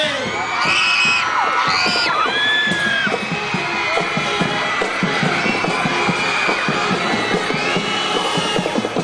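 A large crowd cheers, whoops and shouts continuously at a provincial sports opening ceremony, with high children's and excited voices rising over the steady roar.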